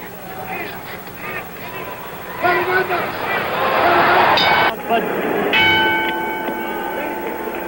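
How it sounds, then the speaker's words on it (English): A boxing ring bell rings for the start of round five in the 1972 Ali versus Norton fight at the San Diego Sports Arena, sharp metallic strikes over a loud arena crowd and a commentator's voice. "The bell for the start of round 5."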